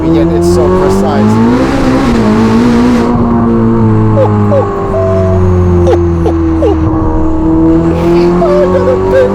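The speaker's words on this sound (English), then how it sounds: "This exhaust is the best thing to happen to the SF90." Novitec-exhausted Ferrari SF90 Spider at full song, its engine note rising and falling loud and close through gear changes, with tire squeal mixed in and a voice talking over it.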